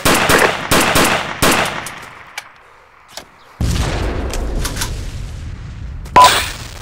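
Gunfire in Arma's FDF mod multiplayer campaign: several loud, sharp shots and bursts open the clip, then a sustained heavy rumble of fire follows with a final close crack near the end.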